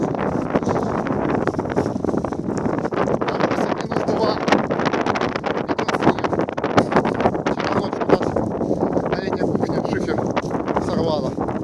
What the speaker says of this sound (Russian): Страшный сильный ветер.